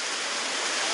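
A swollen creek rushing after heavy rain, a loud, dense, unbroken roar of flowing water close by.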